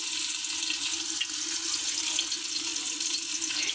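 Prawns coated in semolina fry in hot oil, giving a steady, close, hissing sizzle with light crackles throughout.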